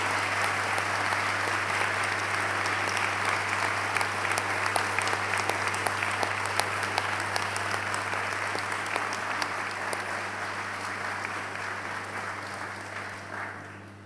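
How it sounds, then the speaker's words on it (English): Sustained applause from a graduation audience in a large hall, a steady dense wash of clapping that carries for the full length, with a low steady hum running underneath it. "a big round of applause for all your supporters and friends"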